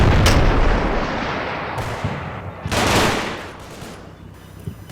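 Tank gunfire from a Panther in a Normandy 1944 Combat Mission game: loud booming shots with long rumbling decay, a sharp blast at the start and another heavy one midway, close and alone.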